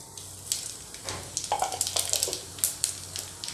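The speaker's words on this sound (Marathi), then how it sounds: "आता आपण जिऱ्याची फोडणी घालूया." Cumin seeds hit hot oil in a heated pot for tempering, giving off scattered crackles and sharp pops over a low, quiet sizzle. The bursts grow busier midway and stay fairly faint.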